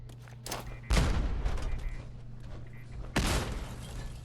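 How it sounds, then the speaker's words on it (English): Grenade explosions and gunfire in the video game Fallout 4: two heavy booming blasts with crackling debris, plus a few sharper shots between them, at moderate loudness and without speech. "I'm gonna bounce a grenade off both sides."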